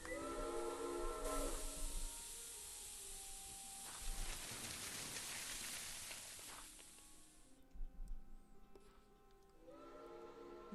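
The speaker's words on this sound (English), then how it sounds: "Those whistles mean a train with a snowplow has arrived from Broad." A steam train with a snowplow sounds its whistles in the Murder on the Orient Express video game. Long, piping tonal blasts come at the start and end, with a wash of hissing steam in between.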